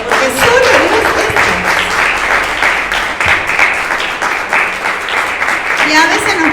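Church congregation claps together in a loud burst of applause, with a voice speaking over the clapping at times and the clapping continuing steadily.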